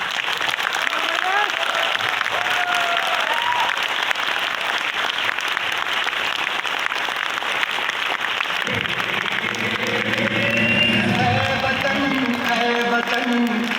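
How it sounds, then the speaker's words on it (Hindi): An audience at a talk breaks into sustained applause, dense clapping filling the whole stretch, loud and continuous, with music starting to rise beneath it toward the end. "आप थोड़ा आवाज और अंदाज से 30 सेकंड एक ताली बजा दे"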